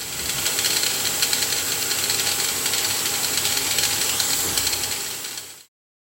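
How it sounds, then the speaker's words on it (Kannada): Steam hisses steadily from a pressure cooker in which a vessel of greens is being steamed, a loud, even broadband rush that runs unbroken for about five and a half seconds and then cuts off. "ಒಂದು ಕುಕ್ಕರ್ನೊಳಗೆ ಪಾತ್ರೆಯಲ್ಲಿಟ್ಟು 4-5 ನಿಮಿಷ ಹಬೆಯಲ್ಲಿಡಬಹುದು"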